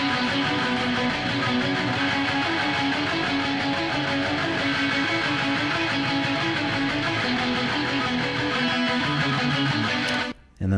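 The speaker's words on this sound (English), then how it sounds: "So playing the rhythm guitar underneath all the lead, it would sound like this." A rhythm guitar strums big open chords in a dense, loud band mix that runs steadily for about ten seconds. A repeating low riff pattern sits underneath, and the sound cuts out abruptly near the end.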